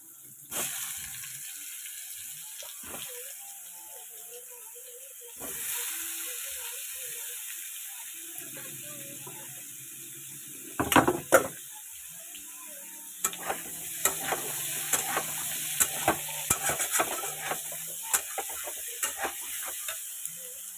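Boiled taro drops into hot spiced oil in a pan and sizzles. The frying is quiet at first, then grows busier with clattering spoon stirs and crackling later on.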